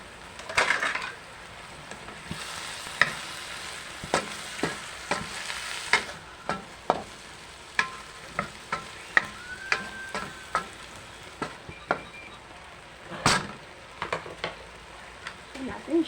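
Vegetables and corn stir-fried in a pan for a tofu dish, with soft steady sizzling and frequent sharp clinks and scrapes of a utensil against the pan, close and fairly quiet throughout.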